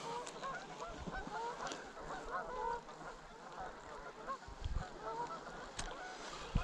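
Canada geese honk as they fly over a reservoir, with repeated calls in the middle distance over a low outdoor background and a few soft bumps.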